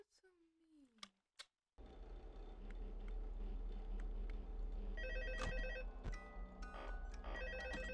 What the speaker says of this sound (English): Oh, you get to hear the phone call.